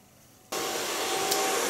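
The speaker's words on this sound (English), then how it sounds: "Put my blow dryer on flat and shine, not on volume." A handheld hair dryer switches on abruptly and blows with a steady, loud broadband roar while styling hair with a large round brush, running continuously after a quiet start with no talk.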